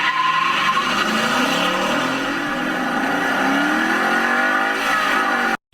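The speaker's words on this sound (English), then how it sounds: "I think the ringtone that's out there is from our Mustang GT with our 5-liter V8" Revving 5-liter V8 of a 2015 Ford Mustang GT, played as a ringtone: a loud, continuous engine roar with rising and falling pitch sweeps as the throttle climbs, running steadily for several seconds before cutting off abruptly.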